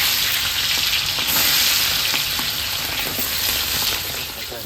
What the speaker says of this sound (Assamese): ফোৰণ মছলাটো ভালদৰে ভাজা হৈ গ'ল এতিয়া দিলোঁ পিঁয়াজ